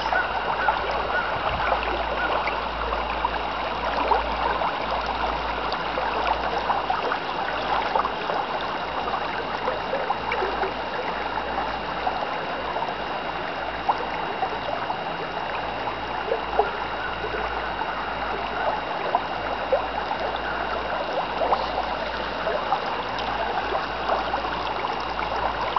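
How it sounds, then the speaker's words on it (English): The St George River in Searsmont, Maine, in summer, flowing steadily with a continuous soft rushing and trickling of water, even and unbroken, with no talking. "But this river is pretty long."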